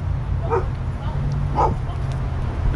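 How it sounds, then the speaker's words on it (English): A pit bull on an Oakland street gives two short yipping barks about a second apart, fairly close, over steady low traffic rumble. "This is a gorgeous dog."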